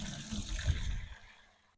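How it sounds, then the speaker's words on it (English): Hot liquid from boiled tree bark pours into a bucket, a short gushing splash that swells and then trails off, close and alone. "we're going to pour it off into this bucket and let it cool"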